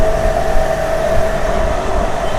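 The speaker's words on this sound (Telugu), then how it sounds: "మన ట్రైన్ స్పీడ్గా చెప్పాలంటే కొట్టి పడేస్తాడు," A MEMU passenger train from Renigunta to Kadapa runs fast in the rain, heard from inside as a loud, steady roar of wheels and carriage rumble with a faint high whine above it.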